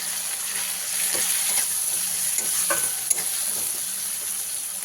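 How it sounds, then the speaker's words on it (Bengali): Spice paste with coriander powder and Kashmiri chili powder sautéing in a pan, a loud continuous sizzle with repeated scraping stir strokes. "এক চামচ কাশ্মীরি গুঁড়ো লঙ্কা দিয়ে মশলাটাকে ভালো করে কষিয়ে নিই"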